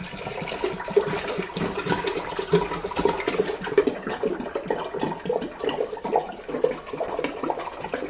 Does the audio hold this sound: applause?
no